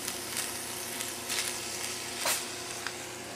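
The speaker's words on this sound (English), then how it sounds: "Stirred around and let it saute till it softens." Garlic and onion sauté in a hot pan, a steady close sizzle broken by a few scraping stirs, with no talking.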